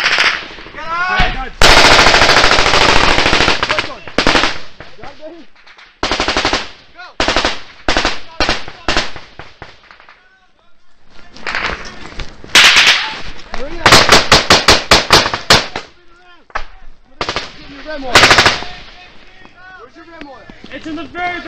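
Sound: machine gun fire during combat

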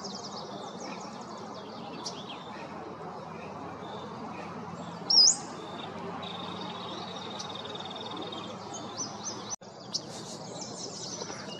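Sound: Pacific slope flycatcher calling

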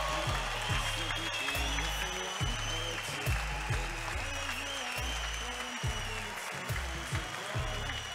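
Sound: crowd cheering and applauding at national swimming championship

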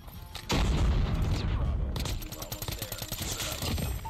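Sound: gunfire from a video game, COD Mobile

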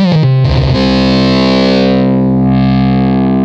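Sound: synthesizer lead sound with distortion effect switched on

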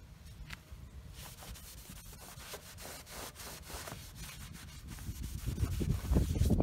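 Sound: rubbing aluminum pontoon tubing with WD-40 on a washcloth

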